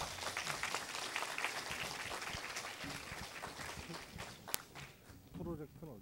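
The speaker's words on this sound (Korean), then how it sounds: "큰 박수로 환영해 주시기 바랍니다" A lecture audience at a university forum applauds to welcome the speaker, a sustained spread of fairly soft, distant clapping that fades toward the end as voices come in.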